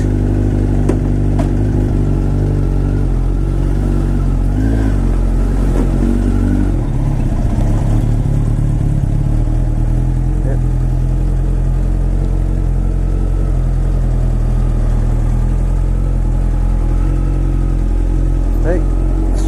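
A motorcycle engine runs close by with a loud, continuous low rumble and slight shifts in pitch, holding steady as the bike moves out through a gate.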